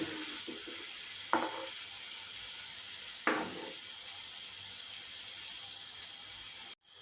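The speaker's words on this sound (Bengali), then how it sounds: "সব পিঠগুলোই যেন এরমভাবে ভাজা হয় ঠিকঠাক।" Sweet potato pithe fry in hot oil, a steady close sizzle with two sharp clinks of a utensil against the pan, running alone until a brief cut near the end.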